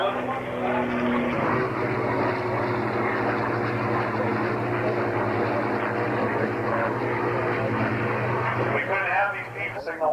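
A P-40 warbird at the Warbirds over Geneseo airshow in New York drones steadily with a humming propeller engine tone for about ten seconds, while voices talk over it.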